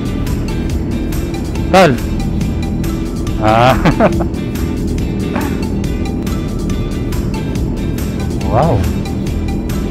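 Several Suzuki SV 650 motorcycles set off on a group breakfast ride, engines rising and passing nearby in bursts, with people talking and calling out over them.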